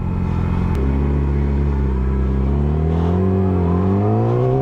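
A motorcycle engine revs up close through downshifts, its droning tone climbing steadily in pitch over a few seconds, with steady wind rush behind it.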